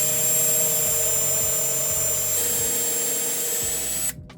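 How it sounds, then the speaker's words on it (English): A power drill boring a pilot hole for a stair hardware screw, a steady high whine with rhythmic low pulses lasting about four seconds before cutting off abruptly. "So we got the right drill bit size."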